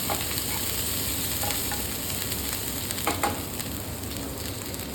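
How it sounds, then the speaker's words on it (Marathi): Ginger garlic paste sautés in a pan for green chilli thecha, a close, steady, dense sizzle that holds evenly without pause. "आता त्यामध्ये टाकणार आहे मी थोडी आलं लसूण पेस्ट आपल्याला चांगलं करतून घ्यायचं आहे"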